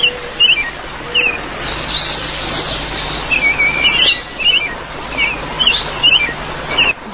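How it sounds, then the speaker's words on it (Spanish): Forest ambience with several birds chirping and calling in repeated short bursts, moderately near, over a steady airy background hiss. "Un bosque suena así."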